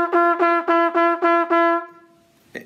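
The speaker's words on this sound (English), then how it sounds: "On the trumpet, it sounds like this." Trumpet playing six evenly tongued repeated notes on a single pitch with steady air, clear and close, the last note sustained and tapering off, followed by a brief click.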